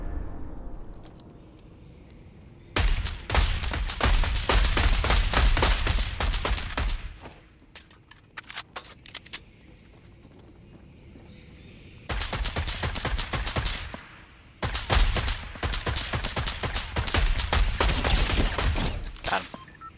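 Fortnite video game gunfire: long rapid automatic bursts in several loud volleys separated by short quiet gaps, with no talking.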